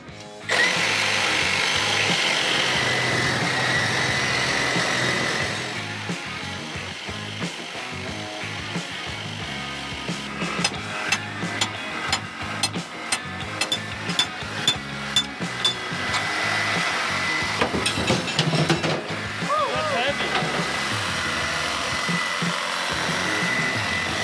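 Power tool cutting through hydraulic hoses on an off-road 6x6 truck, a steady whine giving way to a run of sharp rhythmic bursts of cutting, fairly close, with no talk.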